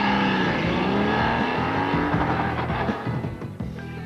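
Racing motorcycle ridden hard at speed by a TT-winning rider, a loud, continuous high-pitched engine roar with shifting revs, close to the machine and alone with no talk.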